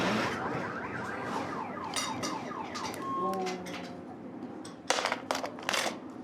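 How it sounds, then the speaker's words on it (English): A car alarm set off by a passing truck cycles through rising and falling electronic siren tones and warbles over street traffic noise, with a few sharp clatters toward the end. "That truck just set off the car alarm."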